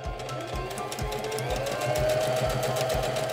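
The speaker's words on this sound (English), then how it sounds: "Place your fabric under the presser foot, lower the presser foot lifter, and step on the foot control to begin sewing." A SINGER Denim sewing machine sews a multi-step zigzag stitch, its needle thumping in a steady, even rhythm of about two strokes per second over a mechanical whir, close and clear.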